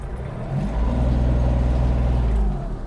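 The engine of a Kubota GL-320 Japanese mini tractor, in third gear, holds a steady, loud diesel throb that swells slightly and then eases off toward the end.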